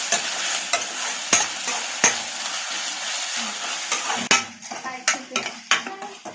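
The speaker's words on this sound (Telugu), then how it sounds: "ఇలా ఉల్లిపాయలు బాగా వేగుతున్నాయి." Onions fry with ginger-garlic paste in a pan for chicken curry, a close, bright sizzle punctuated by repeated scraping and clinking strokes of a spatula, the stirring growing busier toward the end.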